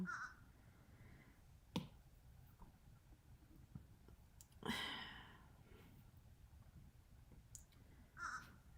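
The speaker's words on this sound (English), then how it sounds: "Just so you guys are aware, we have a crow outside. I'm sorry if you can hear him." A crow outdoors gives about three harsh caws spaced several seconds apart, heard at a distance against a quiet, faintly noisy room.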